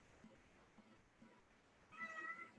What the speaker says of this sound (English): I've now got a cat meowing in the background.